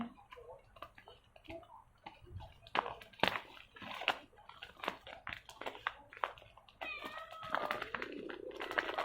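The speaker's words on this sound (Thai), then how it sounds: "แมวร้องทุกคนช่วยด้วย" A cat meows several times indoors amid clicking and rustling from squishy-making with bags and paper, short meows at varying loudness, with a louder, drawn-out cry near the end.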